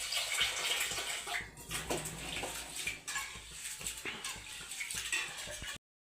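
Water is poured steadily into a pot, a continuous splashing rush lasting several seconds before stopping abruptly.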